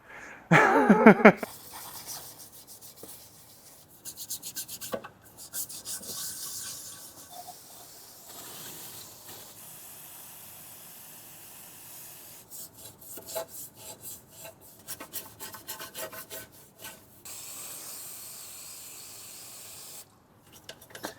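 A stiff brush scrubs a dirty part from a BMW 5 GT during a repair, giving intermittent raspy rubbing strokes in bursts, with a louder clatter near the start and pauses between sessions.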